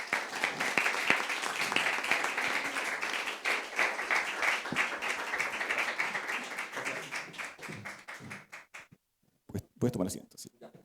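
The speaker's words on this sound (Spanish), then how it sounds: "Recibamos a Rodrigo con un aplauso." An audience at a talk on the digital landscape applauds to welcome a speaker named Rodrigo, brisk clapping that fades over several seconds, leaving silence and then a few scattered sounds and brief speech.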